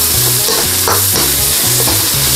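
Green beans stir-fried in a hot pan make a loud, close, continuous sizzle with rhythmic spatula strokes and scrapes repeating every half second or so, with no talking.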